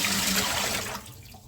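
Water rushes out of a Brita pitcher as it is rinsed and dumped, a close, loud, steady gush that tapers off in the final half second.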